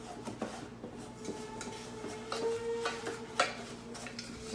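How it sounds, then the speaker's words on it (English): Golden syrup and sugar stirred in a pot on the stove until the sugar melts, with soft repeated scrapes and light clinks of the spoon against the pan over a low steady background hum. "Just want to keep stirring this till the sugar melts"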